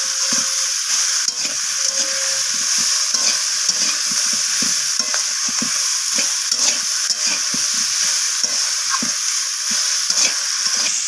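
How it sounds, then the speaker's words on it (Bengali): Mixed vegetables frying with spices and ginger paste, stirred and scraped with a spoon in a pan; a steady bright sizzle runs throughout, broken by frequent clattering stirs, close and loud, with no talking. "তো সমস্ত কিছু মশলা আমি সবজির সাথে কষিয়ে নিচ্ছি এইভাবে"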